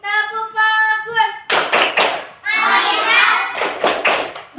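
Schoolchildren in an Indonesian primary classroom clap in a rhythmic focus-clap pattern, short bursts of claps alternating with chanting voices, close and fairly loud.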